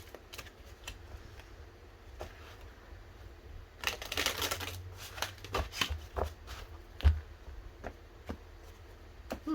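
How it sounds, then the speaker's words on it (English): A deck of tarot cards is shuffled in quick, soft riffling bursts, with a denser flurry of card snaps midway, quiet and close, with no talking. "do another shuffle and then we will get going"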